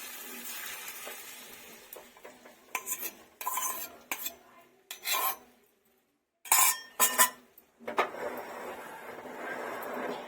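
Egg bhurji is stirred in a pan with softened tomatoes, a utensil scraping and clinking against the metal in irregular bursts separated by short pauses.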